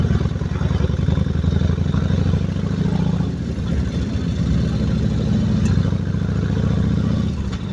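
A Yamaha XV 1600 Road Star motorcycle with an aftermarket exhaust idles and revs with a deep, rumbling exhaust note, steady and close throughout.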